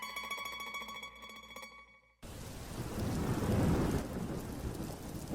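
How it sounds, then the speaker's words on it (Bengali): Cartoon rain and thunder in a Bengali fairy-tale scene. A brief musical passage cuts abruptly into dense, roaring rainfall, with a deep thunder rumble swelling in the middle before easing. "সকাল থেকে যে বৃষ্টি শুরু হয়েছে, থামবার নামগন্ধ দেখছি না যে গো"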